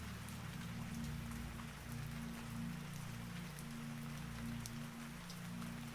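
Steady rain patters on overhead glass in an arcade, a dense continuous wash with scattered brighter drop ticks over a low hum, no voices.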